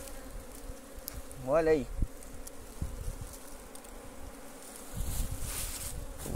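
Apis honeybee swarm buzzing around a cabiuna tree stump, a low steady insect drone close by, with a brief spoken remark and some handling knocks.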